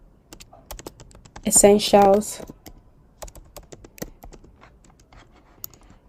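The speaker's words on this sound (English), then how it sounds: "I'm going to do the same thing and type the next text, which is sale" Rapid clicking of keys on a computer keyboard while text is entered into a Figma design, light irregular taps throughout, with a person speaking briefly over the typing near the start.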